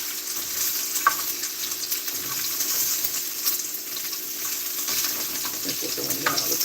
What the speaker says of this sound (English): The sizzling is very loud.